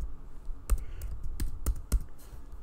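Keys tapped on a computer keyboard in a few separate, sharp clicks at an uneven pace, close and fairly quiet, with low room rumble and no talking.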